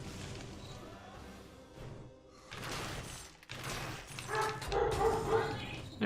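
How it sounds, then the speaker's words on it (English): A pet dog barks and yips indoors in short, scattered bursts, sometimes faint and sometimes closer, over someone talking while he plays a game. "Apologies for the dog."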